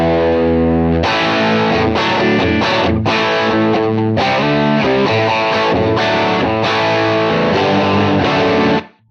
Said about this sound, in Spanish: Aquí puedo encender el overdrive.